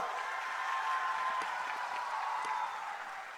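Crowd applause at an outdoor political rally in Dumri for a candidate, a steady wash of clapping that holds for several seconds and fades slightly at the end, with no speech over it.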